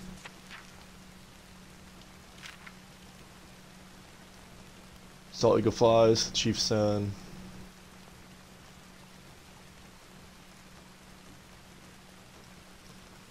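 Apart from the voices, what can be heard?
rain in the video game Red Dead Redemption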